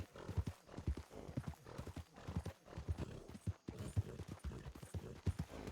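Horse hooves clip-clop in the WildRP video game, a steady, fairly faint walking rhythm of repeated hoof strikes continuing throughout without voices.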